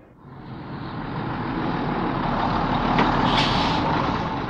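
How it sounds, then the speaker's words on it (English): A big red English bus rumbles steadily and loudly up close, its engine noise swelling in and holding, with a short air-brake hiss late on. "This is a bus."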